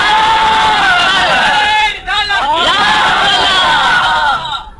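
A large crowd at a religious gathering about the Prophet Adam chants a slogan together, a loud sustained roar of massed voices with a brief dip in the middle before swelling again.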